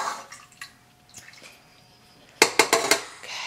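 Melted coconut oil poured into a bowl while making paleo cookies, a run of quick close splashy liquid bursts and drips clustering near the end, with small clinks of dishes before them.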